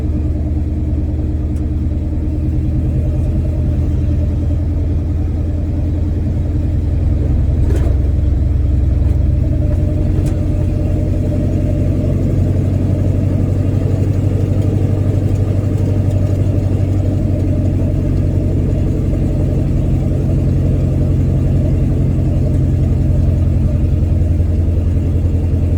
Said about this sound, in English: Lugging its guts out, going through this little bitty hollow, just coasting.